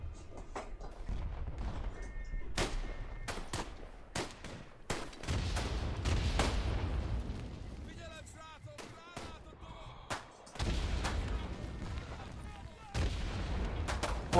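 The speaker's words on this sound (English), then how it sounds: "I like how I'm drawing all this artillery." Heavy booms and gunfire from a Battlefield 1 battle at Tannenberg, with artillery shells landing in repeated thuds and blasts between rifle shots, loud and close throughout.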